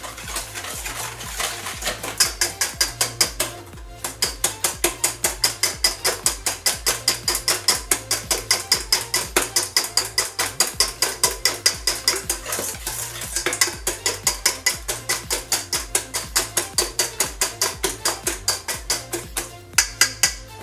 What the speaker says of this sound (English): After beating together the sugar and the eggs, and they are all homogeneous.